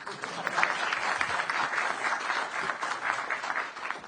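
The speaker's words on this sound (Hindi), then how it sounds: "इस पर तो ताली तो बजनी ही चाहिए" Audience clapping at a speech by Rajnath Singh, a sustained round of applause from a seated crowd with a busy, even texture that swells slightly and holds throughout.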